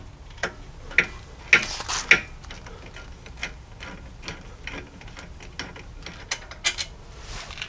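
A ratchet clicks in short bursts while loosening an 18mm rear brake bolt on a Jeep Grand Cherokee, with a few sharper metallic ticks and pauses between the strokes.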